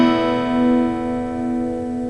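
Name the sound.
guitar strummed open with shortcut partial capo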